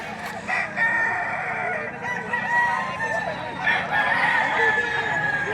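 A rooster crows repeatedly, loud and fairly close, over a busy outdoor backdrop of other fowl clucking, with faint voices in the background.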